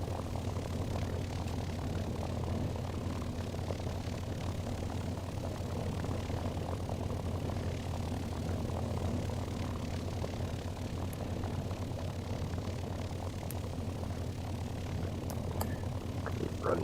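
A warbird propeller aircraft taxis with its engine running at a low, steady idle, a continuous droning hum that stays at an even level throughout, with no voices.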